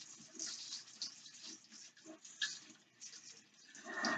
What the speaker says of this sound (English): You want to really rinse your peppers off.